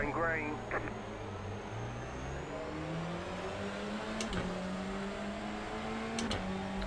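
Race cars in the iRacing sim game launching off a rolling green-flag start, several engines revving up through rising gear pitches with shifts and a few sharp bursts, while someone talks over it.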